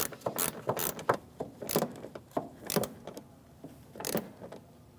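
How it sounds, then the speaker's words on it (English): A hand ratchet with a 10mm socket snugs a side bumper bracket bolt on a 2016-2025 Chevrolet Malibu, giving a run of close, quick clicking bursts with short pauses between strokes. "then I'll put my ratchet on. And I'm just going to snug it right up."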